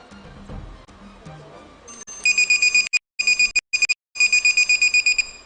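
Quiz show bell and buzzer sounding on a studio set, a loud electronic tone pulsing in rapid repeated bursts with short gaps, starting after a stretch of quiet room murmur.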